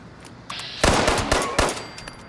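Automatic gunfire in the Fallout 76 game: a quick burst of sharp, loud shots spread over a couple of seconds, some clustered close together, after a softer lead-in, with no talk.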